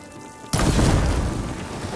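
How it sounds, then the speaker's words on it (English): Blaze barrels erupting after a hit from fire ammo in Horizon Forbidden West, a single loud, deep explosion that bursts in suddenly and then rumbles on as a long roar. "Hitting those blaze barrels with fire ammo should do the trick."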